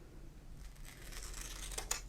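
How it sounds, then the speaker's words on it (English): Pinking scissors cut through paper to make zigzag teeth for a bookmark, giving faint, close crisp snips with a couple of sharper clicks near the end and no talking. "I'm going to use my pinking scissors"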